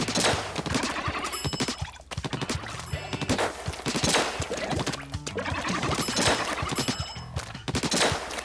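Rapid weapon fire in a video game, from an H3 nozzle-type gun shooting in bursts, rattles loudly and continuously with sharp repeated cracks and impacts throughout.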